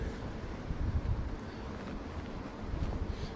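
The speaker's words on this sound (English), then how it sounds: "wind's picking up" Strong wind from Storm Darragh in the UK buffets the microphone in a steady, rumbling roar with gusty swells throughout, and no voices are heard.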